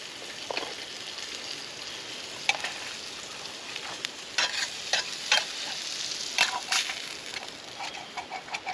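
Slices of Spam sizzle in a pan over an outdoor bushcraft cooking fire, with a spatula scraping and stirring them in sharp intermittent bursts over a steady frying hiss.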